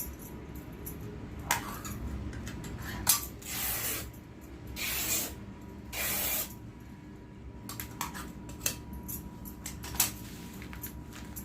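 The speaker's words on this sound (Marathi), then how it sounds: "अशा पद्धतीने दोन पट्ट्या आपण कट करून घ्यायच्या आहेत" Scissors cut two long strips from an old saree, giving a few scattered, close snipping and fabric-tearing bursts with quiet gaps between them.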